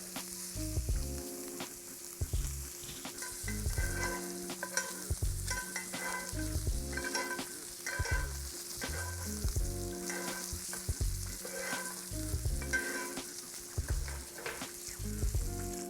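A burger patty fries in a pan while being basted with butter: a loud, steady sizzle holds throughout with a pulsing, rhythmic layer on top, heard close up and without speech.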